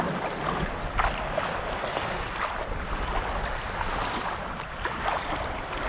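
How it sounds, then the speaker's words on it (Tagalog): Strong sea waves surge and wash steadily at a fishing spot, a dense broadband roar with wind buffeting throughout and no talk. "Lakas na ng alon."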